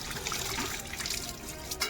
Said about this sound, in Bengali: জলটা ঢেলে দাও